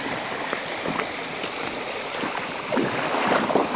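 Water spilling over the second of several weirs on a full stream, a steady broadband rush with faint splashing, even and moderately near throughout, slightly louder toward the end, with no voices.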